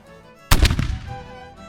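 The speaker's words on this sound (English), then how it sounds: "And we're ready to fire the next round." A historic cannon at Fort Mifflin fires a round with a powder charge, one sudden loud close blast followed by a rumbling, fading echo after a quiet pause.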